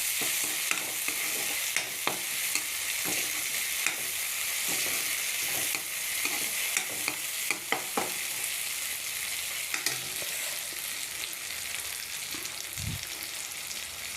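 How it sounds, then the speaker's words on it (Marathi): Tomatoes hit a hot frying pan for dhaba-style garlic and fenugreek greens, giving a steady hiss of sizzling broken by repeated scraping and tapping of a spoon stirring against the pan. "आता ह्याच्यामध्ये आपण टमाटा ॲड करूया. टमाटा ॲड केला मी."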